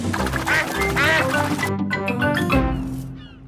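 A cartoon duck quacks rapidly in a string of nasal calls over music and a whirring boat motor, then fades away.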